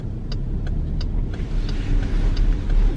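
A new car's engine restarting through its stop-start system, heard up close as a low, steady mid-pitched rumble with a few faint ticks, continuous for a few seconds with no talk.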